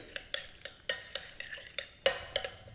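A spoon stirs a light pinch of pepper and spices in a cooking pot, making close, irregular clinks and scrapes against the metal in short bursts, with no talking.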